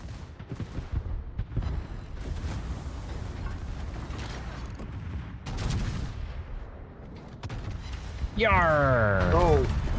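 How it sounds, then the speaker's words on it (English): A high-explosive salvo from naval guns in World of Warships, heard as a run of heavy firing thumps and mechanical clatter mixed under steady talk, ending in a loud whining swell. "I wasted an HE salvo there"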